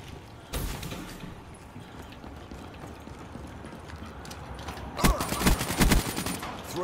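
Bursts of gunfire in the video game Call of Duty Black Ops 3 during a one-on-one free-for-all match: a short sharp volley early, then a longer rapid automatic burst near the end over a busy game background.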